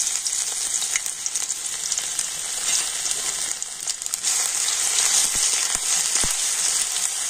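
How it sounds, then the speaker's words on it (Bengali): Grated ginger hits hot oil and sizzles steadily, a bright, close crackle with a few sharp pops toward the end. "তো তেল গরম হয়ে গিয়েছে আর তেলের উপর দিয়ে দিচ্ছি একটু আদা।"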